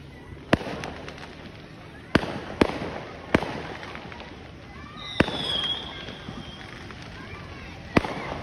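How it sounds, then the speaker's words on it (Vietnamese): Fireworks burst during the 2025 New Year celebration in Ho Chi Minh City, with about six sharp booms spaced irregularly across the clip, some distance away, over a continuous crowd murmur and a brief whistling rise in the middle. "Đúng là pháo hoa luôn."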